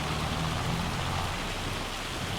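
Heavy rain pours steadily in a farming video game, a dense, loud, unbroken hiss of drops on surfaces with no pauses.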